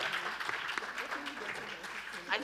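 Audience applause at an Aspen Institute panel event on Next Generation Africa, with steady dense clapping from a crowd that swells slightly at the end.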